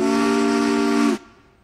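A steam locomotive whistle sounds one loud, sustained blast with a steady hiss, then cuts off abruptly, leaving faint residual noise.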